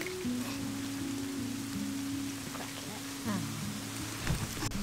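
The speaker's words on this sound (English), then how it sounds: "Really quite raining now" Heavy rain pours down at an outdoor bottle dump, a steady dense hiss of drops on surfaces throughout, with some low rumbling underneath.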